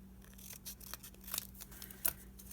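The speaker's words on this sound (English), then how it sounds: "Cut off the top part." Scissors snip through paper card in several soft, close cuts, with a couple of sharper crisp snips standing out over quiet background.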